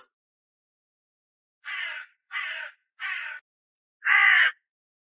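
A crow caws four times in a Chinese period drama scene: three evenly spaced caws, then a louder fourth after a short pause, all clear and isolated against silence.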